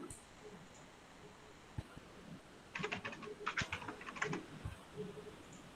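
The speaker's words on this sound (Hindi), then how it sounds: "टाइप करो ओनली, कीबोर्ड से टाइप कर दो।" Quiet clicking of keys on a computer keyboard, typed during an Android app development class, comes in a quick irregular burst of taps over a faint room hiss.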